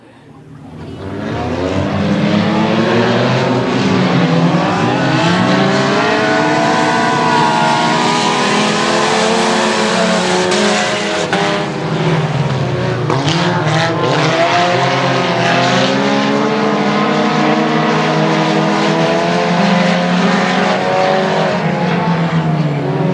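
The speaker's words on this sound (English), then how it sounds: "6 cars ready to go 6 laps the distance in your final heat of the night here at the legendary Boothill Speedway" A pack of six 4-cylinder race cars roars around Boothill Speedway during a heat race, engines droning loud and continuous with overlapping rising and falling pitches as the cars pass close by.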